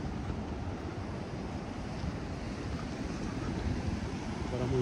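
Sea waves wash steadily onto the shore beside a seaside village lined with beach huts and a café, a continuous broad roar of surf with wind buffeting the microphone and no clear individual breaks.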